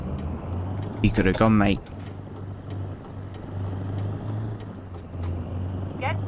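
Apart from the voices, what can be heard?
truck air brake hissing, from the video game Euro Truck Simulator 2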